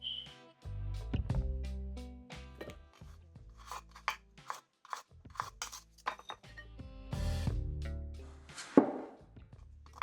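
Knife cutting potatoes into bite-sized pieces for aloo gobi, a series of crisp chops and scraping strokes against a board at uneven intervals, close and clear with faint clinks and a low hum beneath.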